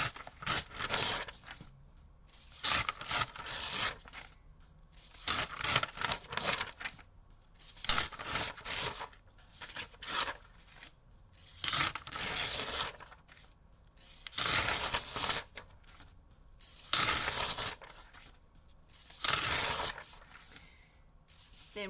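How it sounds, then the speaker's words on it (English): Pages torn out of a book one after another, loud close ripping bursts of a second or two each, separated by short pauses in a steady rhythm, with no voice over them. "I'm going to finish ripping out mine"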